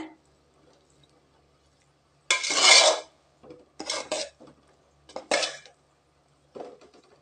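Mochai biriyani rice being stirred in a metal pot, giving a few scraping, clattering bursts of spoon against the pot separated by quiet pauses, close and clear.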